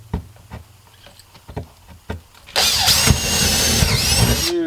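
A power drill bores into a trailer, a loud continuous whine that starts abruptly after a few quiet knocks and taps and runs steadily to the end, with the motor pitch wavering under load.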